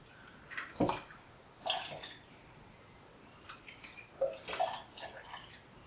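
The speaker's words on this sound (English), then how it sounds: "So go and refill my jug." Water poured and splashing into a jug while it is refilled, coming in a few separate close bursts with quiet gaps between them.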